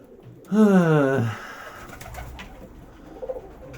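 A single close pigeon coo from a dovecote, deep and wavering, lasting under a second, followed by quieter background rustling.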